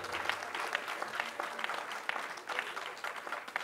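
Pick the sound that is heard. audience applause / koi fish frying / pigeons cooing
audience applause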